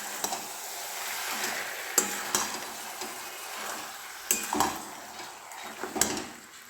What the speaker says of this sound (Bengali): দেখো দিয়ে দিলাম, এরপরে এটা ফ্রাই করছি।